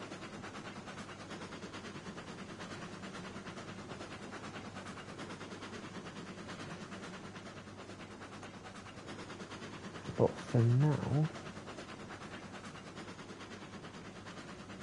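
A Shay steam locomotive in Railroads Online chugs steadily with a continuous rumbling rhythm throughout, with a brief spoken phrase near the end.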